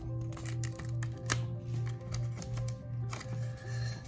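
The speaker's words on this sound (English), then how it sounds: "Get some tape out." Adhesive tape is pulled off its roll in repeated ripping bursts and pressed onto craft paper for a Sydney Opera House model, heard close up with a steady pulsing rhythm and light crinkling taps.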